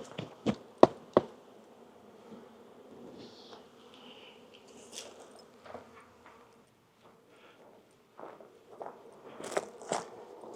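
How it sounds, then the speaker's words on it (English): Honeybees buzz at a home-yard hive as they are shaken off a frame, scattered buzzing broken by sharp knocks and crunchy clicks, loudest at the start and near the end, with no talk. "let me make sure I shake off any bees that live here"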